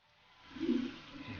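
Water rushing through household plumbing, rising from a faint trickle to a brief loud gush like a toilet flush, then settling into a steady running flow.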